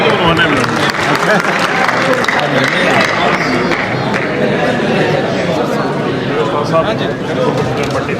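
An audience at a Tehzeeb Hafi poetry evening at the Multan Arts Council in 2024 claps loudly and continuously, mixed with a busy murmur of crowd chatter and voices throughout.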